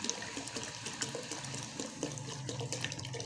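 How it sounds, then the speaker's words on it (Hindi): Water pours steadily into a cooking pot for masoor dal, a continuous splashing rush of about 1.5 litres filling the pot, fairly faint and uninterrupted for the whole stretch. "जब मैं ये पानी डालूँगा।"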